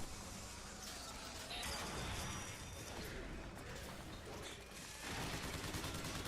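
Sustained rapid fire from a crank gun in Bioshock Infinite, a dense rattling barrage with crashes and whooshes mixed in, loud throughout with a short dip before the firing surges again near the end.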